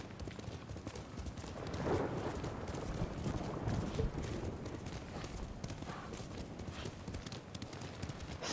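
Horse galloping in the Ghost of Tsushima video game, a dense, continuous rhythm of hoofbeats with ambient game sound, steady and mid-distance throughout.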